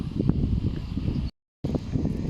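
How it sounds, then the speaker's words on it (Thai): Strong wind buffets the microphone at Chiang Rak Noi railway station in Thailand, a loud, rough rumble that cuts out briefly and then returns, with no voices. "วันนี้ ลมลมแรงมากครับลมเย็นสบายมากครับ"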